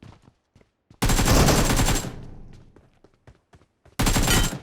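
Video-game gunfire erupts in two loud, rapid bursts: a full second of fast automatic shots, a stretch of faint clicks and footsteps, then a second close volley.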